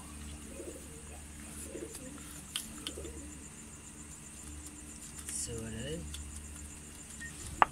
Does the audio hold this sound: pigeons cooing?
yes